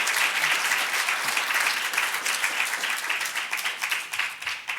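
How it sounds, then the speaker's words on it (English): Audience applause for a panel at a space-and-art convention, a dense, steady clapping from a full room that holds evenly for the whole stretch without voices. "let's give a hand of applause to our panelists"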